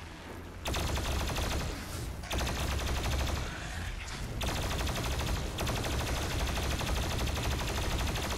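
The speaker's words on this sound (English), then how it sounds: "What's this gun I just picked up? Oh, the plasma rifle." A plasma rifle fires continuously in a demon-shooting game, a dense, loud stream of rapid shots in long sustained bursts with short breaks, little or no talk over it.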